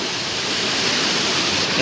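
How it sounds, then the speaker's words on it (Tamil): A strong river in Kerala rushes and churns loudly nearby, a dense, continuous roar of turbulent water with no break. "அந்த அளவுக்கு தண்ணி அடி சுழட்டி போயிட்டுருக்கு."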